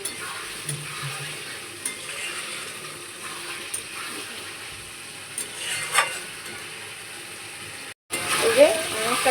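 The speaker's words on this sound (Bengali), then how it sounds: "এই যে অনেকটা কষা হয়ে গেছে মশলাটা" Masala paste sautéing in oil for a fish, kohlrabi and potato curry, with steady low frying noise, occasional stirring scrapes and a brief cut near the end.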